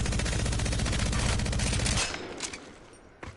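A Devotion energy weapon fires rapidly in a first-person shooter game, a dense, loud stream of shots for about two seconds that cuts off abruptly, leaving fading echoes and a few scattered clicks and impacts.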